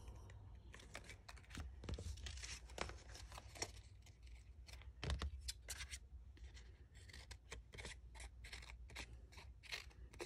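Scissors snip through paper while cutting around flower petals toward the center, a run of close, crisp clips and soft paper rustles at a steady working pace with no talking.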